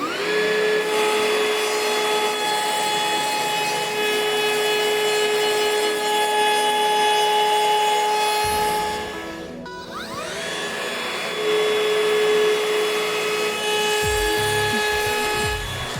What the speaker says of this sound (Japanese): 続いて面取りをしていきます。